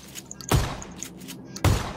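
Gunfire in PlayerUnknown's Battlegrounds: two loud, sharp shots about a second apart, each a heavy crack with a short tail, over a quiet background.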